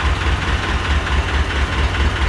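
A 1970 T 25 tractor, an antique in fully original condition, idles with a loud, steady low chugging that pulses evenly and runs unbroken throughout, close by and alone.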